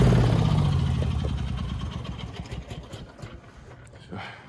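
A tractor engine runs on a soggy lawn, its low rumble loud at first and then fading steadily, as if moving away or easing off, with a brief surge near the end.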